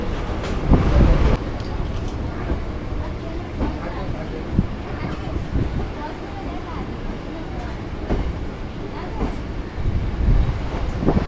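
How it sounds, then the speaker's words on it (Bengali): A train pulls out of Ballygunge Junction station in Kolkata with a steady, close rolling rumble and rattle, and a louder surge near the start and end, while voices murmur faintly underneath. "এখন বালিগঞ্জ জংশন ডিপার্চার করছে আমাদের ট্রেন"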